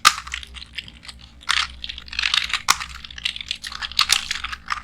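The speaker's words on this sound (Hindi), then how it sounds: "मैं यहाँ पे मैं कुछ पहले टेक्स्ट टाइप कर देता हूँ" Someone types on a computer keyboard during a WordPad lesson in a computer class, with irregular bursts of close, crisp key clicks and a few louder clacks, and no talking.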